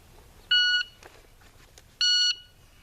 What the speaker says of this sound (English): Let's get the shot timer back on here.